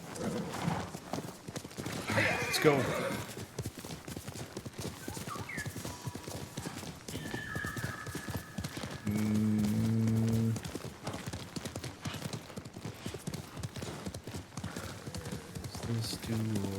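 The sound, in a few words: horse galloping hooves in Ghost of Tsushima video game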